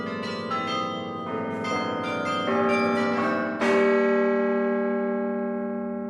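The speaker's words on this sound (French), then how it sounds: "À son sommet, un ensemble de cloches appelées carillons sonne l'heure." The carillon bells atop the Bruges belfry ring out the hour: a run of bright, overlapping bell strikes that builds to a louder final stroke, then hangs and slowly decays in a long resonant ring.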